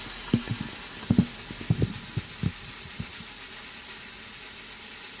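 Pork pieces sautéing in an Instant Pot for pulled pork, with a steady high hiss of sizzling fat broken by scattered light taps and clinks of meat being moved.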